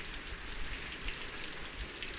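Heavy rain pours down steadily during a summer downpour in a sunflower-growing area, a dense, even hiss of drops on surfaces with faint low rumbles underneath and no talking.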